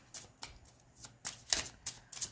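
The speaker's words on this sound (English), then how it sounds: "I am just going to shuffle" Tarot cards being shuffled by hand, giving a series of soft papery riffling bursts in an uneven rhythm, close and fairly quiet with no talk.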